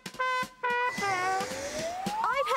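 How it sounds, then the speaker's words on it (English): A trumpet from a children's junior jazz band plays a short, loud brass phrase of separate held notes with a brief gap, then sweeps upward in one long rising glide, alone without talk. "I play the trumpet. It's a brass instrument, and it sounds like this."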